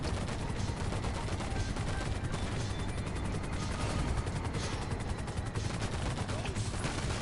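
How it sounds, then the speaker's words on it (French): Machine gun fire in the game GTA during Cayo Perico preliminary missions, a dense, continuous rattle of rapid shots that stays loud throughout with no pauses. "La mitrailleuse"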